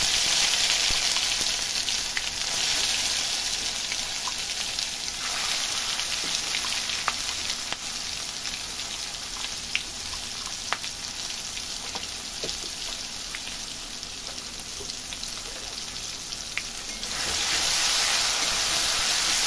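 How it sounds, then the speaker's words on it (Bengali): Spice masala with turmeric and cinnamon sizzles and fries in a pan for soybean kofta, a close, steady hiss and crackle with a few sharp pops, louder at the start and end. "মশলাটা আমি ভালো করে কষিয়ে দেবো"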